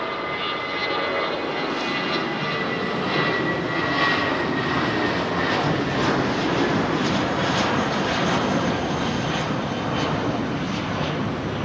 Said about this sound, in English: There's the Ram Max Royal Air Maroc.